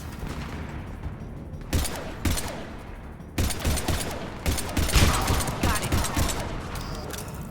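Incendiary-round gunfire in the video game Mass Effect 3 cracks out in loud, dense bursts, with a short pause before a heavier sustained volley; a voice speaks briefly over it.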